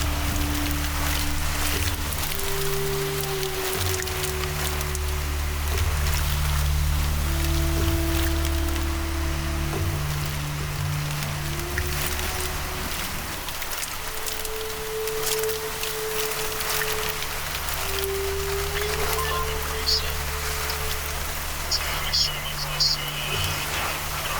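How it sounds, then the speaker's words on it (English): Steady rain hisses over a low engine drone during a tornado chase in South Dakota, with a faint voice murmuring underneath throughout. "before getting buried in rain"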